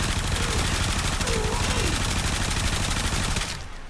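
Supra Vandal fire in the game Warframe, a steady, dense stream of rapid automatic shots sustained close and loud for several seconds before cutting off abruptly near the end.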